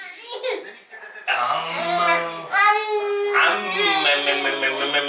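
A five-month-old baby boy babbling and vocalizing "mam"-like sounds, close and loud, with drawn-out voiced syllables shifting between whiny cries and laughing squeals over several seconds.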